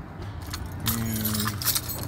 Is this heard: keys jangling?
yes